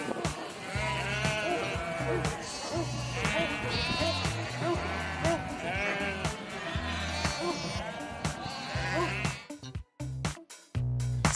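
Several sheep bleat repeatedly and fairly close as they are moved across a farm, their wavering calls overlapping above a pulsing low musical beat, with the bleats thinning out near the end.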